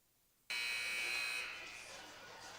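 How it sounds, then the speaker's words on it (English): A loud arena buzzer blares to open the second period of a high school hockey game between Grand Forks Central and West Fargo Sheyenne, starting abruptly and holding steady for about two seconds before slowly fading. "A big, huge buzzer as we start the second period."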